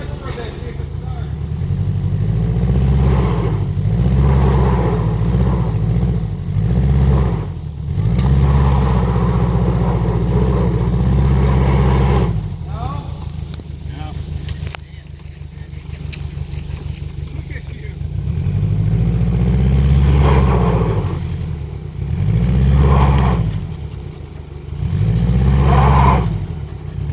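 Subaru with older all-wheel drive and an open differential revving while one wheel spins, loud repeated rising and falling engine surges in a rhythmic pattern, with a quieter pause midway and voices talking over it.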